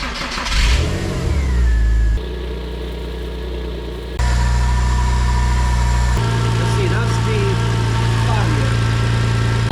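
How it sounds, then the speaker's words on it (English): A rebuilt Porsche engine turns over and catches, revs briefly, then settles into a steady, loud idle with a low rumble and voices murmuring nearby. "Let's turn on the car and see how it goes."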